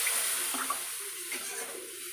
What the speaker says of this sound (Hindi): आपको जितनी ज़रूरत हो उस हिसाब से आप इसमें पानी डाल सकते हैं